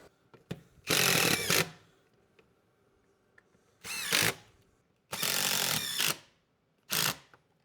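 A power tool drives small screws into rear seat belt support brackets inside a barn-find Pontiac Firebird, sounding as four loud, close whirring bursts of about half a second to a second each, separated by quiet gaps.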